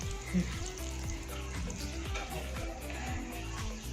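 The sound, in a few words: corn frying in butter in a pan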